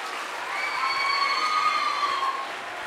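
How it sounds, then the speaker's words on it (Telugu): Audience applause at a motivational talk, a steady wash of clapping and cheering from a large crowd that swells and holds for about three seconds, with a thin sustained whistle ringing over it. "Please clap for your self."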